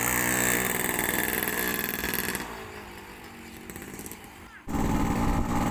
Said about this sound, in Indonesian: Kita ketemu kembali manasin mesin Suzuki A100 Badak Jawa.